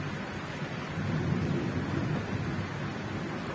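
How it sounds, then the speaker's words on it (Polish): A night thunderstorm in the Łódź region brings a low, swelling roll of thunder over steady rain and wind noise, building in the middle and easing off, with no voices. "grzmi i pada i wieje straszliwie."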